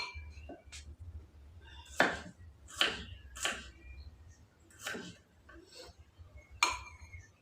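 A knife slicing seasoning ingredients for vegetable soup on a cutting board, with about seven sharp, separate cuts at an uneven pace, quiet and close.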